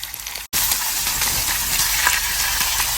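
Pork dropped into a hot pan right after garlic bursts into a loud, steady sizzle that starts abruptly after a brief silence and continues close and strong with no talking.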